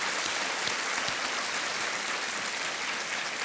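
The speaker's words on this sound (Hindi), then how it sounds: "तालियों के साथ रेणु जी का स्वागत किया जाए" Studio audience applause on the Indian quiz show Kaun Banega Crorepati, season 5, fills the room as a dense, steady clapping wash at moderate loudness with no talk over it.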